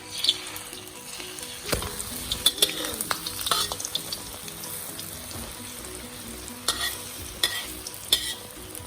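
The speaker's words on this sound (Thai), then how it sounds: "จะทอดจนกว่าไข่จะเป็น สีเหลืองทองเกือบเข้มนะคะ เกือบไปน้ำตาลเลยนะคะ แล้วก็ จะพลิกเขาขึ้นมาค่ะ" Cha-om omelette, a Thai egg dish with acacia leaves, frying in a pan, heard as a steady close sizzle with scattered stirring and scraping knocks and a few sharper clinks, with no one talking.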